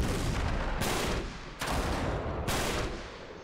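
Uncharted 3 gunfire crackles in three loud bursts spaced roughly a second apart, each a sharp broadband crack over a continuous noisy combat background, no voices.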